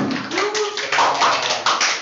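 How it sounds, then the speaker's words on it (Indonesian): Classmates applaud a student presenter at the end of a micro-teaching mathematics lesson. The clapping is short and fairly close, with a voice running under it. "Tepuk tangan untuk Sarina"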